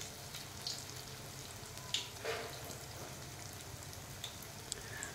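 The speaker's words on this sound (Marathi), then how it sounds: "आपल्याला अलटून पलटून दोन्ही साईडने मालपुए छान तेलामध्ये तळून" Malpua frying in hot oil, a steady quiet sizzle with occasional soft pops and crackles throughout, close up and alone with no talking.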